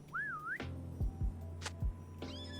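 A whistle in The Lord of the Rings Online: a rising and falling warbling whistled tone, followed by a few low thumps and a sharp high burst, then a brief tonal call, all clear and near.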